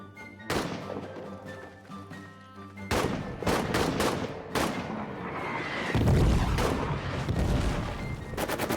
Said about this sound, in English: I hear the machine gun going.